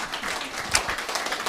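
Audience applause at a patriotic lecture marking the 100th anniversary of the March 1st Movement, a brief dense burst of clapping from a hall crowd, even and sustained, with no talk.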